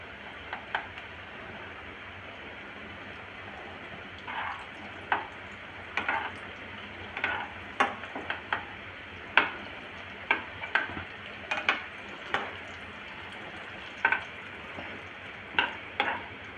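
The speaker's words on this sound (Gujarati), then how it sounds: "બંને બાજુથી સરસ આપણે એને તળી લઈશું અંદરથી સોફ્ટ અને ઉપરથી એકદમ ક્રિસ્પી હોય છે" Kothimbir vadi frying in oil until crisp on both sides gives a soft continuous sizzle with frequent crackling pops and sharp utensil clicks at irregular intervals.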